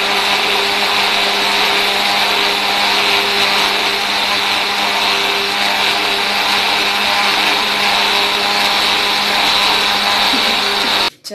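A blender whirs steadily at high speed, blending strawberry milkshake in a jar. The loud, constant motor drone runs unbroken and cuts off abruptly at the very end.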